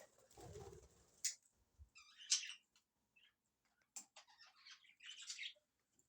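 Small pet birds chirp and tweet in short, scattered bursts, with a soft cooing near the start; quiet and close, no talking.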